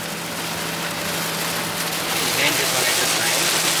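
Steady rain and road spray hiss against a moving car on wet, slick low roads in the fall, with a constant engine hum underneath and a slight rise in intensity toward the end.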